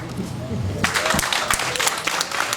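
An audience at a medical mission launch event breaks into applause, a dense patter of many hands that swells and continues steadily under a voice speaking over it.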